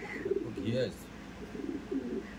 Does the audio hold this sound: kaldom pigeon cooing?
yes